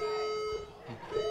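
A steady electronic alarm tone buzzes continuously through a live podcast show, holding one pitch while indistinct voices and room noise murmur beneath it.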